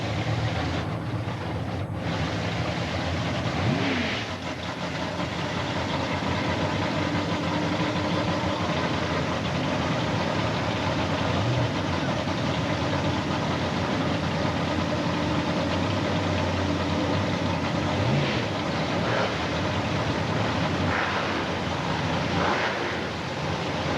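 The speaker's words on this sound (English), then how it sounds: "Nitrous oxide injected Pro Modified machine stage out of the Danbury, Connecticut and Toronto, Ontario on the line" Nitrous-injected Pro Modified drag racing cars staging on the line at an IHRA Spring Nationals quarter-mile event in Bristol, Tennessee, with a steady, loud engine rumble that holds throughout and brief revving rises.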